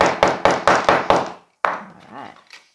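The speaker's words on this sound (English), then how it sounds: "I like to use the chasing hammer because it's got this big, wide, flat head on it." A flat-headed chasing hammer strikes a ring in six sharp, evenly spaced taps, then a pause, a single louder knock and fading scrapes; close and crisp with no talk.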